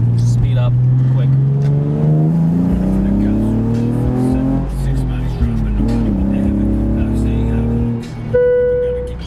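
A car speeding up with a rising engine note that climbs through several gear-like sweeps, loud and close from inside the cabin, with people talking over it and a brief chime near the end.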